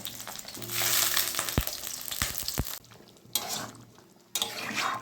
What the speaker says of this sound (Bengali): মাংসের আলুগুলো আগে ভেজে দেবো।